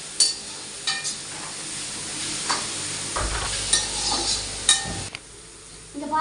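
Pulicha keerai greens sautéing in a pan, with a soft sizzle beneath intermittent stirring scrapes and light clinks of a spoon against the metal.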